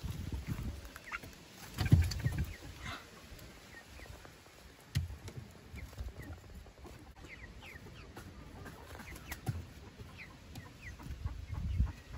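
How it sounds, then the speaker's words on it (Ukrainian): Frizzle chicks cluck and peep at a village dacha, with scattered soft calls and a few louder clucks over faint outdoor background noise. "Курчата фрізлі"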